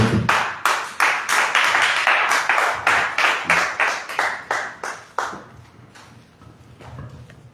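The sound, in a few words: church congregation clapping to acclaim Jesus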